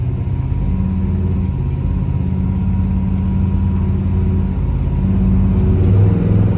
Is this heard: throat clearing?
no